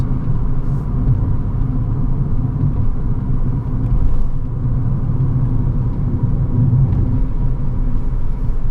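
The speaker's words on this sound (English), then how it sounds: "This car just flies around corners." Inside an electric Fiat car driving around corners, a steady low road rumble and tire noise hold throughout with a faint motor hum, close and continuous with no talking.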